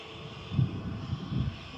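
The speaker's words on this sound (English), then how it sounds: "A320-200 Neo." An Airbus A320neo airliner at Manchester Airport gives off a steady, fairly distant engine roar with low rumbling swells, heard alone without talking.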